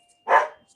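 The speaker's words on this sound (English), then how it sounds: "Shut up, dog." A single sharp bark from a dog indoors, short and close, standing alone against silence.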